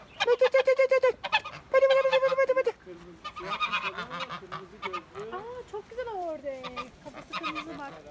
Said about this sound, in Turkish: Burada da kazlar ve ördekler.